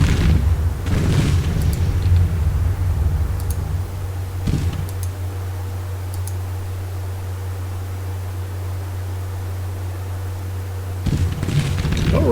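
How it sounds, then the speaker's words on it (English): Artillery opening fire in the Civil War strategy game Grand Tactician, with a deep boom at the start, another around four and a half seconds, and a cluster near the end over a steady low rumble. "artillery's getting into position and opening up"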